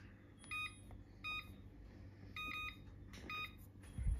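A kitchen timer beeps while acorns roast on the stove for acorn flour, giving four short bursts of bright electronic beeps spaced about a second apart over a quiet hum.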